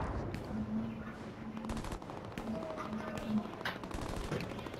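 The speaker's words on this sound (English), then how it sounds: "I guess we'll send a strafe through there." A strafing run in the World War II video game Hell Let Loose rattles out rapid bursts of distant machine-gun fire, repeated in several short volleys mixed with other battlefield noise, while voices talk underneath.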